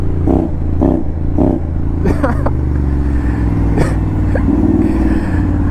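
A very loud Honda X-ADV scooter engine revs in sharp bursts, throaty low roar swelling and dropping several times at close range, with a steady deep idle underneath between blips.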